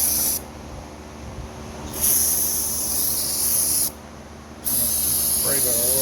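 Carburetor cleaner sprayed onto a lawn mower carburetor: two steady hissing bursts of about two seconds each, close and loud, separated by brief pauses, with a faint voice starting at the end.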